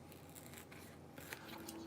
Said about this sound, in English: Does anyone else get it where they're using scissors and it just hurts?